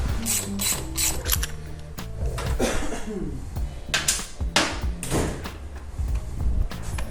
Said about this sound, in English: I'm gonna get the other fairing off and remove these pieces down low.